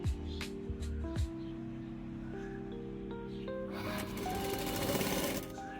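A sewing machine stitches the fold of an old dupatta, starting with a few short bursts and then settling into a longer steady run of rapid needle strokes, close and fairly quiet with no talking.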